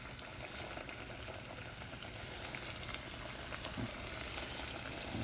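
Chicken frying in oil for fried chicken, a constant close bubbling sizzle with crackling pops throughout, steady and fairly quiet with no voices.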